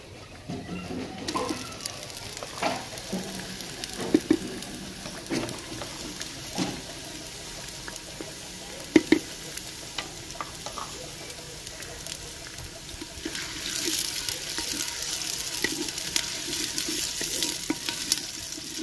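Crushed ginger and garlic frying with vegetables in a pan during village-style home cooking, a soft sizzle that swells into louder, steady hiss toward the end, with pigeons cooing nearby and occasional utensil clinks.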